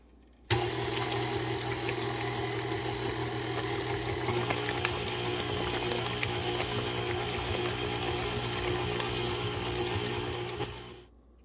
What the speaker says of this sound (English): So we are now going to mix all of this together.